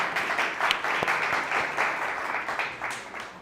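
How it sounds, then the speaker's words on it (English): An audience at a business talk on generative AI applauds a speaker with continuous moderately distant clapping, a few louder individual claps standing out, the level easing slightly toward the end. "Let's give him a round of applause."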